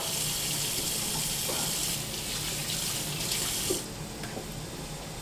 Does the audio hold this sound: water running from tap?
yes